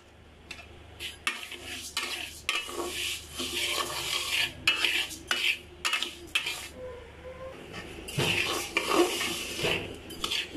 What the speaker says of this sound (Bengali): আমি খুব ভালো করে টেলে নিব যেন একটু সুন্দর ফ্লেভার আসা পর্যন্ত